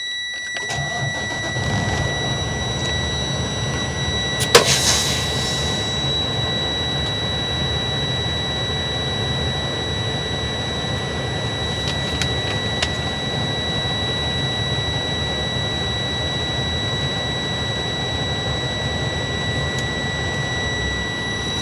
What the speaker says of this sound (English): once that has settled, we are going to turn on the engine.